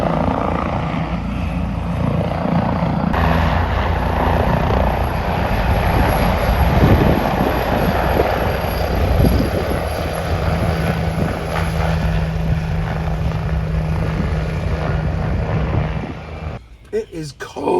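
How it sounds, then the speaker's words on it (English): Helicopter rotors starting up on an airfield at Henstridge, a loud, steady engine and rotor drone with wind buffeting the microphone, continuous throughout and fading near the end, with people talking nearby. "the rotors are just starting up"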